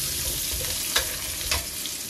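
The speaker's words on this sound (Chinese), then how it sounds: "咱们给它炒，炒一会儿口感也会好很多" Chestnuts stir-fry in oil in a wok, a constant close sizzle with two brief scraping stirs, no talking.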